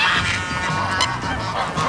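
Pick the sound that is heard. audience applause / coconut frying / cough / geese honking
geese honking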